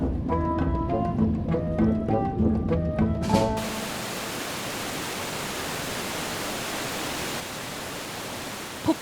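Jeongbang waterfall on Jeju Island pounds down in a dense, steady hiss that takes over abruptly after a few seconds of gentle music, continuing alone and loud to the end.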